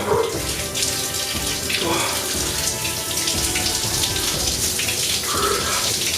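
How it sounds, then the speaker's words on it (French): Cold water pours steadily from a shower head in a continuous loud, close hiss and splash, with brief voice sounds mixed in. "Je vais allumer l'eau, on va démarrer tout de suite."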